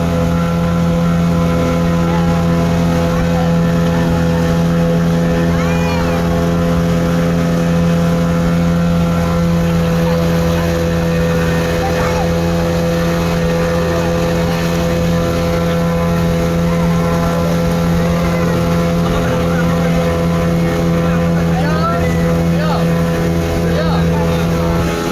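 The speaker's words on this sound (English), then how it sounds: "Another speedboat coming there." Speedboat motor drones steadily on Muttukadu lake, a loud, constant engine hum heard close by for the whole stretch, with faint voices in the background.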